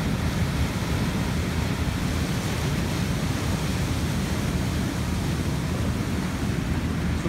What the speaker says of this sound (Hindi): तो वो जो एक पानी की आपको आवाज़ आती है ना, पानी की जो फील आती है, वो सेम यहाँ पर आपको महसूस हो रही होगी।